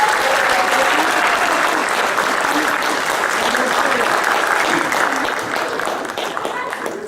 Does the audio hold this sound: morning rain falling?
no